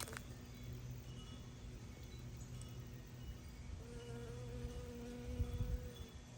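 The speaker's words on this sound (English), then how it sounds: "There's a honeybee." Honeybee buzzing among cosmos and marigold blossoms in a garden, a faint thin drone drifting in and out over steady low outdoor ambience with no talking.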